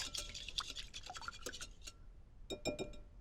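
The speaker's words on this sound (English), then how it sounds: "Just give this a little whisk." A whisk beating a whole egg and an extra egg white in a bowl with vanilla, producing quick, light clicking and tapping against the bowl in irregular bursts, faint and close, with a brief pause midway.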